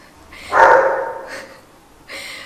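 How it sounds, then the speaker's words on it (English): A single dog bark rings out with a slight whine trailing after it, followed by a shorter second yip, fairly close and loud against a quiet background. "Tata is playing with ball. Did you hear that?"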